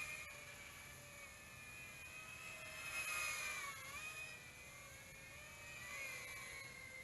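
Makerfire Armor 67, a 67mm micro FPV racing drone, flies with a steady high-pitched whirring buzz that rises and dips in pitch as its motors throttle, fairly close and heard alone throughout.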